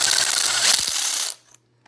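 A deburring tool with a small blade is twisted on the cut end of electrical conduit, giving a loud, close rasping scrape for about a second before it stops, with a few light clicks after.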